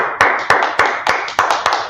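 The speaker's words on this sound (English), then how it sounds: "Let's clap it up." A small group claps in a steady rhythm, about seven sharp, loud hand claps in two seconds, close by and with no talk over them.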